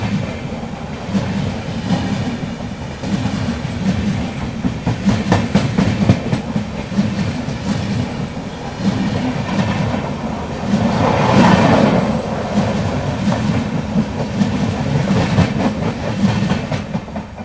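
The Matsyagandha Express, running between Mangaluru Central and Mumbai LTT, passes close by on the Konkan Railway, a loud steady roar with rhythmic clickety-clack of wheels over rail joints throughout.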